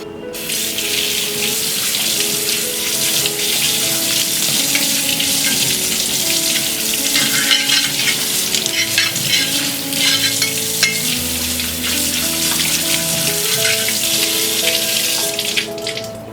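Running tap water splashes steadily onto a burnt steel tawa being washed in a kitchen sink, a loud continuous rush with clattering and scraping of the pan throughout, no talking.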